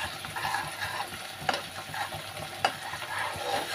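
Momo chutney being stirred and fried in oil in a pan, giving a steady close sizzle with a constant scraping texture and two sharp spatula clinks partway through, with no talk.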